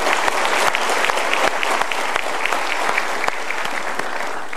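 Studio audience applause for the motivational speaker Mario Teguh, a dense, steady wash of many hands clapping together, loud and sustained throughout with no talk over it.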